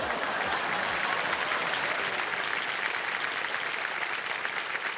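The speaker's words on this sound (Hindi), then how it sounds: "जवाब आप देते हैं और ताली उधर बज जाती है" A TV quiz show studio audience clapping on KBC, steady, dense applause from a seated crowd, even and moderately loud for several seconds without talking.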